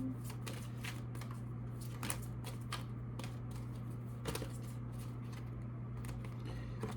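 Oracle cards are shuffled by hand for a tarot reading, soft quick riffling and flicking bursts repeating over a faint steady hum, close and quiet with no talk.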